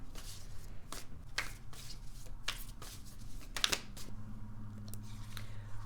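A tarot deck is shuffled by hand close up, with quiet riffles and soft card slaps falling in irregular bursts against a faint low background hum.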